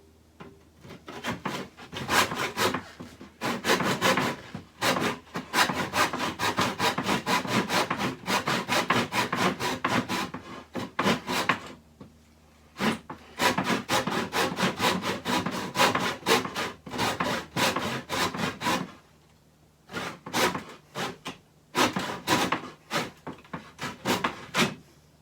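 Hand saw cutting through wood to free guitar pickup pucks, a steady run of rapid rasping strokes with brief pauses between bursts, close and loud, no talking.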